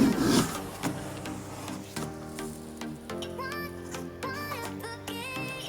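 A Lenovo ThinkVision E24q-20 monitor's cardboard box is opened with a scraping, rustling rush at first, then lighter rubbing, creaks and small knocks as the packaging shifts, close up and without talk.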